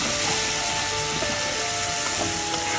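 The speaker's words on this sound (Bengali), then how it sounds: "এখন আমি ভালো করে মশলাটা কষিয়ে নেবো" Turmeric and chili powder sautéing in a pan with a little water for a pabda fish curry give off a loud, dense, hissing sizzle that continues unbroken from start to finish, with no voices.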